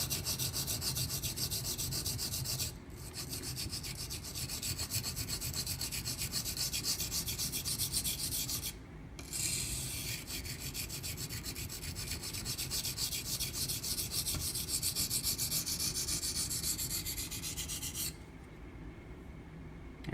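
A Ganzo FH11 folding knife edge being sharpened, with a steady, continuous rasping scrape of long even strokes broken by brief pauses.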